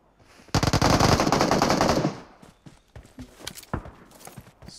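Rapid burst of shotgun fire in the mobile battle royale game PUBG Mobile, loud and dense for about a second and a half, then scattered lighter shots and clicks trailing off, with no talk.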